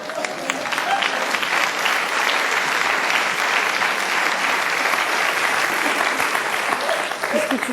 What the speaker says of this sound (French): Tu l'applaudis maintenant, Jackie